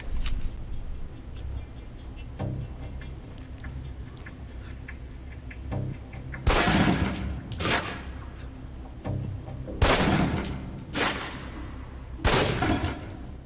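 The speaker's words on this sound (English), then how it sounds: "Equip the pistol, then aim down range and take some shots at the target." Pistol shots crack at a target on a firing range in Alpha Protocol, several sharp loud reports spaced seconds apart, some in quick pairs, with quieter clicks and a low hum between them.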